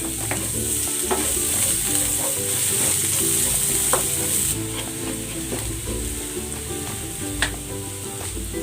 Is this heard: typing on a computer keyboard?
no